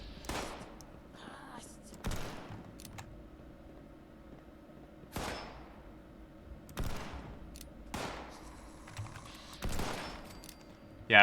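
Gunshots in Fallout 76, sharp separate cracks spaced a second or two apart across the stretch, each followed by a short decay, with quiet game ambience between.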